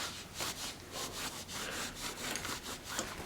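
Faint, rhythmic scrubbing strokes of cleaning inside a bicycle brake caliper, about a dozen quick back-and-forth rubs repeating steadily at close range with no voices.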